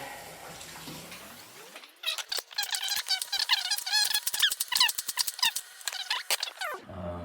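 Celery stalks are rinsed under a running tap, a steady water stream giving way to close splashing and squeaky rubbing in quick irregular bursts, then stopping abruptly.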